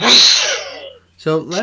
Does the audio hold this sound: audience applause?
no